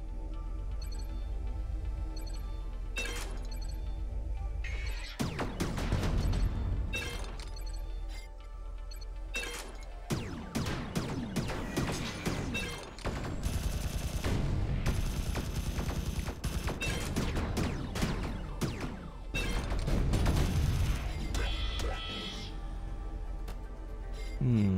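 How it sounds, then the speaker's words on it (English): Missile launches and blasts from the Sublevel Zero shooter game, loud bursts and crashing impacts over a continuous synth soundtrack, in clusters around the middle and end. "I'm full on missiles again. Let's use this."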